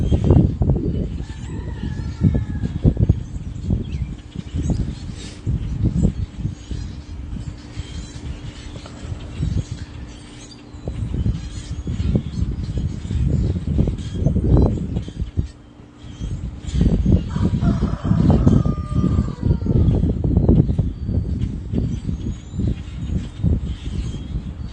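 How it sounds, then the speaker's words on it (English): Roosters crowing near chickens in a yard at sunrise, repeated calls over a steady outdoor background of clucking and rustling, moderately near, with no talking. "Roosters, why don't you just chase those chickens off instead of sitting there crowing at them?"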